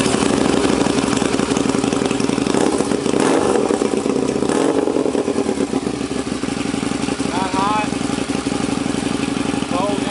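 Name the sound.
2007 Harley-Davidson V-Rod motorcycle engine starting and idling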